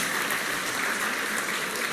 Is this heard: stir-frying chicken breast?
no